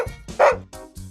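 A couple of close, loud dog woofs come in a quick pair, with a short yip-like start and brief gaps between them.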